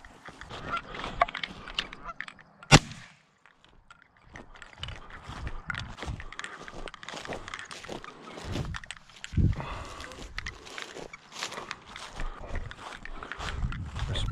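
Geese honk repeatedly during a goose hunt, rough calls spread across the clip amid rustling and footstep-like movement outdoors, with one sharp louder burst early on.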